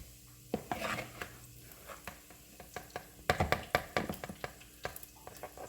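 A metal spoon scrapes and clinks against a pan while flour cooks for a beef stew, giving irregular close scraping strokes and sharp taps that cluster more densely toward the end, over a soft sizzle.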